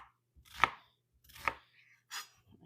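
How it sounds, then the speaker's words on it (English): Knife dicing food into a small dice on a cutting board, three distinct close chops spaced unevenly in an otherwise quiet kitchen. "So we're just doing a nice small dice."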